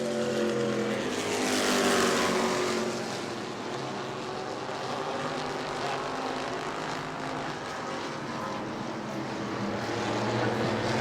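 E-Mod race cars circle the New Smyrna track in a loud, continuous engine roar, swelling as a pack passes close and then holding steady at a distance.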